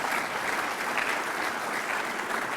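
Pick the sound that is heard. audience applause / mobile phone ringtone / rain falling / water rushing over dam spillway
audience applause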